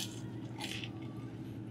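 Teeth bite into a crunchy-crusted, chewy pastrami bagel with pickles and mustard, a single close, soft crunch followed by squishy chewing, faint and brief.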